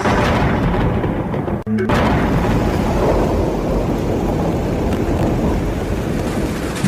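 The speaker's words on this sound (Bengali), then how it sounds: "বাইরে বৃষ্টি আবার জোরে পড়তে শুরু করেছে।" Heavy rain pours steadily and loudly as an effect in a Bengali audio story, with a brief dropout and a low thundery rumble near the start before the downpour roars on continuously.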